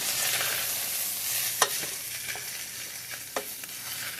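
Chorizo and precooked potatoes sizzle softly in a pan while a utensil stirs them, a steady low frying hiss broken by a few sharp scrapes and clicks.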